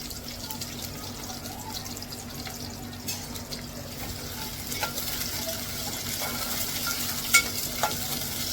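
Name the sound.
chili, garlic and onion frying in oil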